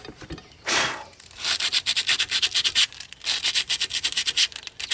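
A wooden axe handle is being sanded by hand. It gives close, loud rhythmic rasping strokes that start as a single long pass and then turn into quick repeated back-and-forth scrubs.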